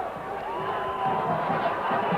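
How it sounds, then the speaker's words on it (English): A cricket crowd at a 1996 Pakistan versus Sri Lanka match in Nairobi cheers a big six, a steady, broad roar of many voices that holds throughout and swells slightly midway. "The crowd are enjoying this."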